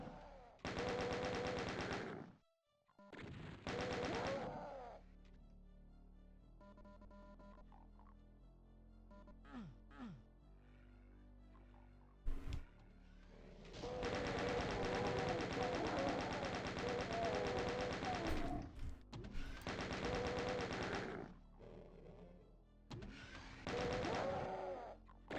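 Gunfire from the video game Doom, heard while playtesting the custom map Evil Planet episode 1, comes in loud rapid bursts of automatic fire. Quieter gaps separate the bursts, and a long, sustained barrage fills the second half.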